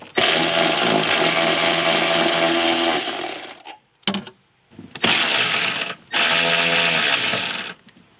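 A ratchet wrench or power driver removes car seatbelt anchor bolts with loud, close whirring bursts. Three long runs are broken by short pauses, with one brief burst in between and a quick final blip.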